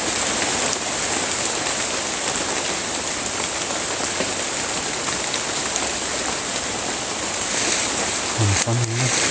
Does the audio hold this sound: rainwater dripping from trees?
yes